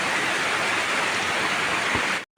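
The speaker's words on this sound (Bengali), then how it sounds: "বৃষ্টিটা হচ্ছে ফাইনালি" Rain falling at night, a steady, even hiss of downpour that holds constant and fairly loud, ending in a brief abrupt dropout near the end.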